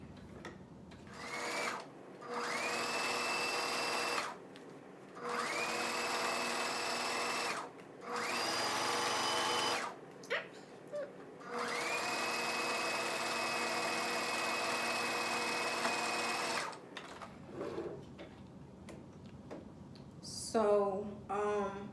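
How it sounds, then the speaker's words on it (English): Sewing machine stitching straight lines across a pinned puffer jacket, running in several sustained bursts of steady motor whir with short pauses between them, fairly close, ending with some handling noise. "All right, so I'm right back at the sewing machine, and like I said, you guys, we are just gonna sew straight across these soap lines that we made."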